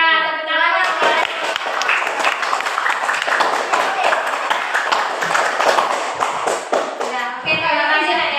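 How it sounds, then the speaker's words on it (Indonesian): Students clapping in a classroom, a burst of applause from the group that starts abruptly and fills most of the span, with voices audible before and after it. "tepuk tangan kepada"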